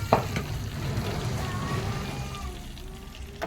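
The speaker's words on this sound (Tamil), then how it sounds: "எடுத்து மோர் ரசத்தில் ஊற்றிடுவோம்." Hot oil tempering sizzles and crackles steadily as it is poured into buttermilk rasam, a close, bubbling hiss that slowly fades.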